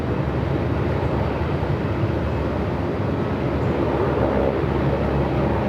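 Aircraft taking off from runway 34 at Melbourne Airport in strong wind, a broad, steady engine roar that stays loud and continuous throughout, with no voices over it.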